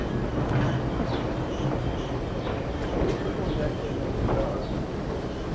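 Vintage trolley museum subway cars roll along rails with a steady rumbling drone and faint squeals and clatter, moderately loud and continuous, while people talk nearby.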